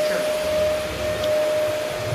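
A vacuum cleaner runs over a hardwood floor during a floor-cleaning job, giving a loud, steady motor drone with a thin high whine throughout, and no one talking.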